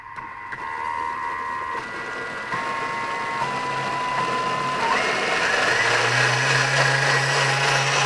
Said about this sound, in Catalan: A veure, anem a triturar.